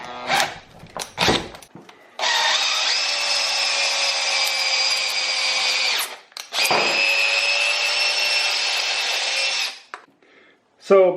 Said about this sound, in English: what you're going to want to do is get a drill